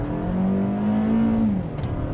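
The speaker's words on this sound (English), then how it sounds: "We'll just do needless full throttle acceleration." A Toyota RAV4 TRD Off-Road accelerating at full throttle, its loud, close engine holding a steady droning roar that climbs slightly in pitch, with no talking.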